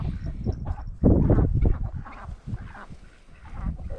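Call ducks on a farm give loud, close, repeated honking quacks in irregular bursts, with no talking over them.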